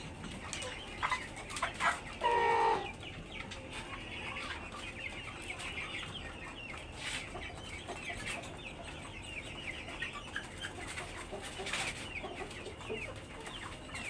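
Brahma chickens cluck steadily nearby, with one louder burst of calling early on among quieter, scattered clucks.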